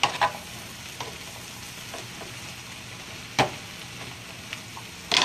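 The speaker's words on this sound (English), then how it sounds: "I'm going to try to flip it and put the rest of the fresh veggies underneath." Fresh vegetables, including eggplant, sizzle and caramelize in a pan for ratatouille, a constant soft frying hiss broken by a few louder scrapes and knocks as they are flipped.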